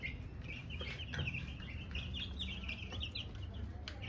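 A group of one-week-old chicks kept for raising hens cheep in high, rapid peeps over a steady low hum of background noise, close but fairly soft.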